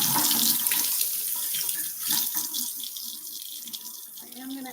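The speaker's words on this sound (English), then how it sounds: "now I'm going to rinse these off under some water" Beets are rinsed under a running kitchen tap, a steady close splash of water into the sink, shifting slightly as the vegetables move through the stream, with no talking.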